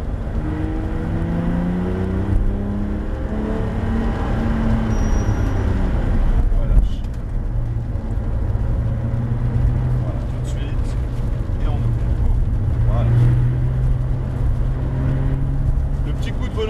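A Porsche GT3 RS laps a wet circuit, its engine note rising as it accelerates, heard from inside the car beneath steady talk throughout, with rumbling road and tyre noise filling the background.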